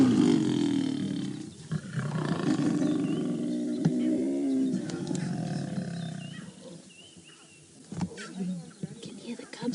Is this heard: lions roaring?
yes